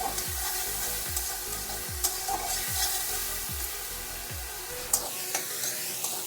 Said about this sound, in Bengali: দিয়ে ভালো করে একটু কষিয়ে নিচ্ছি যাতে টমেটোটা একটু গলে যায় আর মশলাটাও একটু ভাজা হয়ে যায়